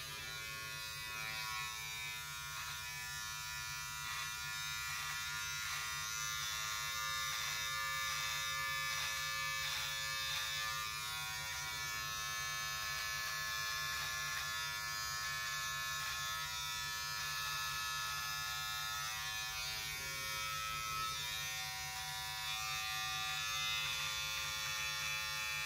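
A Manscaped Beard Hedger electric trimmer buzzes steadily while trimming a beard, its high, even whir running close and unbroken throughout, fairly quiet and with no voices.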